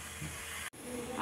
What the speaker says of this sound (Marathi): त्याच्यावर झाकणी मारून ठेवली की वाफ लगेच येईल